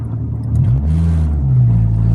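A Honda GSR engine in second gear is floored, its loud, steady exhaust drone climbing in pitch as the revs rise at full throttle, heard close without talk.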